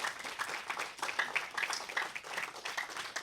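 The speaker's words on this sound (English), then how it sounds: "Should we give them all a round of applause?" A small audience applauds a construction industry panel at the close of a discussion, giving steady, moderately loud clapping through the moment with faint chatter underneath.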